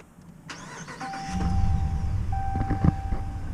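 A 5.7-liter Hemi V8 in a 2019 Ram Rebel pickup cranks and roars to life, then settles into a rough, rumbling idle with a few revving bursts, close by.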